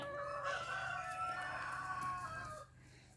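A rooster on a farm crows a long drawn-out call, close and loud, over softer clucking from nearby chickens, then the call cuts off and only faint background remains.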